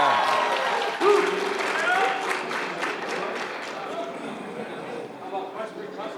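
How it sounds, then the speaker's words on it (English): High school students in a large event crowd give themselves a round of applause, a broad ragged wash of clapping and cheering that starts strong and slowly thins, with voices and a loudspeaker voice mixed in. "letting us know you're here with a nice round of applause for yourself"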